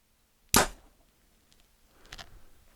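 A Sanlida Dragon 10 compound bow looses an arrow, giving one sharp, close snap followed by a fainter thud about a second and a half later.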